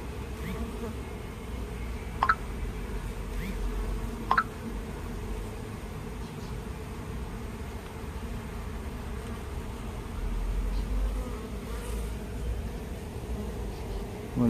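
Honey bees hum steadily at an open hive during an early-autumn inspection, a dense, continuous buzz close by, with a couple of brief sharp clicks from the hive frames.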